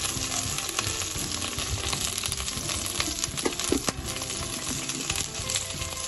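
Curry leaves and green chili spitting and frying in hot oil in a pan for restaurant-style Chicken 65, a dense steady crackling sizzle with a few sharper pops, close and continuous throughout.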